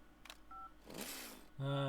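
Cell phone dialing tones in The Henry Stickmin Collection video game: a few short electronic beeps, then a sweeping whoosh and a sustained tone at the end, brief and fairly clear.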